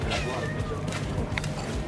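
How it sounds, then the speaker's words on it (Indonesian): A cat meows a few times, faint to moderate and broken up, while people chat nearby and a steady background hum runs under everything. "Dah, ada kucing."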